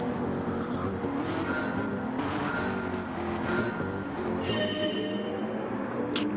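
Race cars in a racing video game accelerate together from a rolling start on the Deep Forest Reverse track, with a dense, sustained engine roar and rising revs, loud and close throughout without a break.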